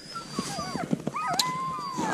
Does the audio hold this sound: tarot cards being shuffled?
no